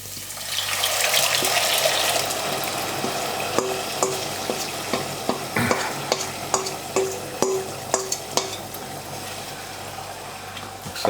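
Beef frying in ghee in a pan as gravy is returned for a beef pepper curry, with loud steady sizzling and a run of clinks and scrapes from stirring.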